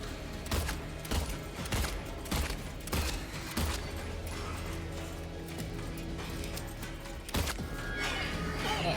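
Gunshots from a video game fight, with the player switched to a pistol: a string of sharp, separate cracks in an irregular rhythm, fairly loud against a steady background of game noise, with some gaps between shots.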